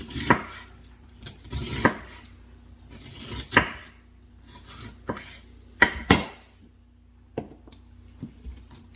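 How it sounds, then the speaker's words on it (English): A knife chopping an onion into angled wedges on a cutting board, with about a dozen sharp, close thunks at irregular intervals over a faint steady background tone and no talking. "I'm going to do this one at an angle because these are the kind of cuts of onion I want"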